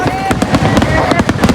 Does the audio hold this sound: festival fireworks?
yes